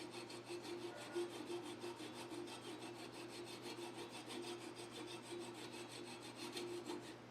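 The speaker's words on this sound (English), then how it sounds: "And then I use a flush cut saw. And I just use that channel to guide me while I'm cutting." A flush cut saw cuts through wood on a lathe with steady, quick back-and-forth rasping strokes. The sawing is close and continuous at an even rhythm, with no talk.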